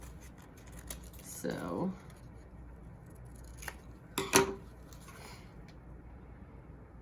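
Scissors snip and trim the ears of a paper dragon head craft, a couple of quick crisp cutting bursts close by, with brief quiet speech between them.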